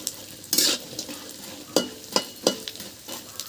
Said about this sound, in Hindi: वही हम थोड़ी थोड़ी करके कढ़ाई में हम भून रहे हैं